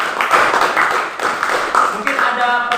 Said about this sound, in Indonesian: Berikan tepuk tangan untuk Ica dan untuk kelompok.